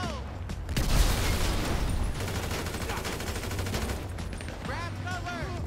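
Gunfire in GTA 5 Online, a dense, steady crackle of shots that holds throughout, mixed with game noise.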